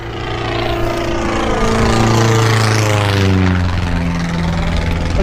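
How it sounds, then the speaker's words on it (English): A propeller plane drones low and loud overhead, its engine pitch sliding downward as it passes above a lake at night. "There's a float plane. Oh no, it wasn't, it's just a plane."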